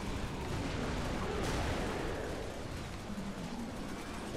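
Gunfire from a shooter on an enemy in the Ratchet & Clank co-op video game, a dense, continuous roar of weapon blasts and explosions filling the whole stretch at steady loudness with no talk.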